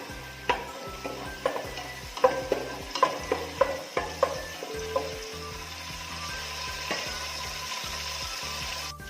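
A spoon scrapes and stirs chopped onion sizzling in hot oil in a pan for prawn biryani, with a steady fry hiss and a run of close, sharp scraping knocks.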